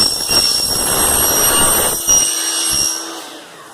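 Profile cutting saw for window frame sections roaring loud and steady, then switched off, its whine winding down and fading away over the last couple of seconds.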